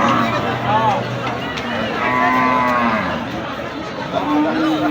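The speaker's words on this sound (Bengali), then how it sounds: "এই যে গরু নামতেছে একটা বিশাল আকৃতির গরু বিশাল আকৃতির সাদা কালো রঙের একটি গরু" Large black-and-white cattle being unloaded from a truck at a livestock market, giving several drawn-out moos amid a steady crowd hubbub, with people talking nearby.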